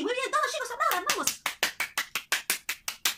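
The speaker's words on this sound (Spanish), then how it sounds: "Sí, muy bien, todos chicos, aplaudan" A group of children clapping their hands in a classroom, starting as brief overlapping voices and then settling into a steady run of loud, evenly spaced claps, about a dozen in a row.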